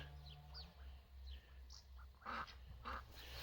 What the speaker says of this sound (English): Even the ducks are off for a walk in the afternoon rain.